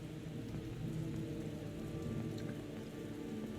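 Rain falls in a video game, a continuous soft wash of rainfall with low rumbling underneath, steady and fairly quiet with no speech.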